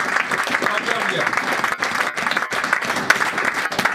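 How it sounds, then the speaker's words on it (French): A church congregation applauding during a French-language sermon, a continuous, moderately loud wash of clapping and crowd noise with voices mixed in, brief dips in between. "Est-ce qu'on peut acclamer la parole du Seigneur?"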